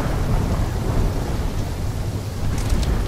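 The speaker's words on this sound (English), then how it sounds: "When the full force of the storm hits, we'll be looking at 150 mile per hour winds." Thunderstorm with heavy wind and driving rain in the Call of Duty Black Ops 3 video game, a loud, dense, continuous roar with no speech.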